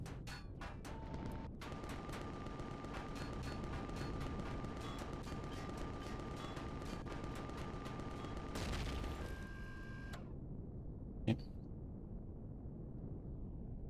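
Gunfire in the sci-fi survival game Empyrion Galactic Survival at an abandoned bunker's outer defences, a quiet barrage of rapid repeated shots over a droning hum, ending in a sudden cutoff and one later sharp blast.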